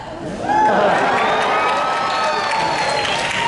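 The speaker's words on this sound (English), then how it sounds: "Very warm, tepid applause." Audience at a Comic-Con panel bursts into applause with cheers and whoops, swelling after a brief moment and holding as a full, lively crowd roar. Scattered voices ring out above the clapping.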